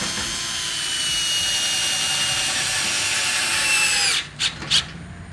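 A power drill drives screws into wood while mounting a mailbox, running as a steady, loud whine for about four seconds before stopping, followed by two short bursts of the motor.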